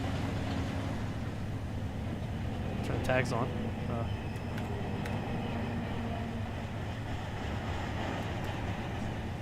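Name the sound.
train rolling sounds in the Run 8 train simulator video game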